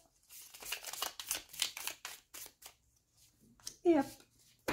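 Oracle cards being shuffled by hand in short riffling bursts at close range, broken by soft handling noises, with someone speaking quietly in French in between.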